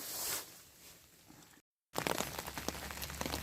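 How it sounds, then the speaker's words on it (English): Rain pattering on a camping tarp during a spring backpacking trip, a soft steady hiss at first, then after a brief silence, denser close drumming of drops. "I love the sound of rain hitting the tarp"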